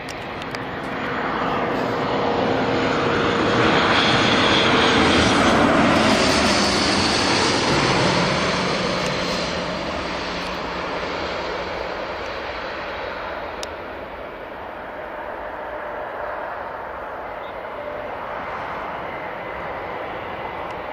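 Loganair airliner arriving at Newcastle Airport from Southampton, a broad engine roar that swells to a loud peak then slowly fades into distant rumble, heard alone with no talk.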